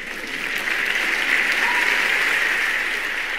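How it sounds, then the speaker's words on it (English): Audience applause in a hall at a stage event, a steady dense wash of clapping sustained throughout without a break. "I'm clapping for my wife."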